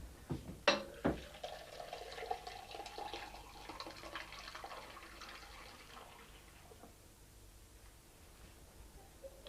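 Cask IPA poured off into a straight glass at a village show bar in Castle Hedingham: a gurgling liquid rush with a few clunks at the start, then a quieter, steady trickle that fades toward the end.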